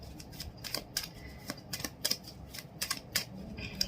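Tarot cards are handled and drawn one by one, giving soft, close, crisp snapping and sliding clicks in an irregular rhythm against a quiet room background.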